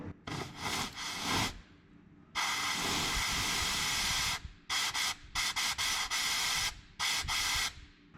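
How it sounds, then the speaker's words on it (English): Air blown through an unhooked fuel hose from the fuel pump of a 1978 Ford F250 4x4 comes out as five harsh, breathy hissing blasts of uneven length, close and fairly loud, with short quiet gaps between them. "I'm gonna go blow on that fuel hose that we unhooked at the fuel pump."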